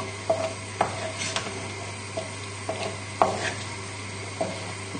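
A pan of pappardelle with butternut squash being gently stirred as mascarpone melts in, with scattered soft scrapes and clinks over a faint steady sizzle, close and fairly quiet.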